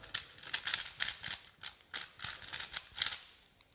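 A dry, stiff speedcube (Rubik's cube) being turned, giving a quick run of sharp, dry clicks and ratcheting scrapes in an uneven rhythm, close and fairly quiet with no talking.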